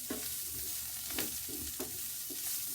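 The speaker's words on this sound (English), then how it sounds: "you want to cook your onions until they're brown" Onions frying in oil until brown for a tagine, a soft continuous sizzle with a few periodic stirring scrapes, close and fairly quiet.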